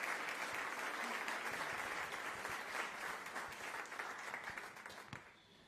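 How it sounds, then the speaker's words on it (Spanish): A church congregation breaks into sustained applause to welcome the pastor, steady dense clapping from many hands that fills the room and tapers off at the end. "Recibimos a nuestro pastor Pablo Moena Rossi con un fuerte aplauso de bendición"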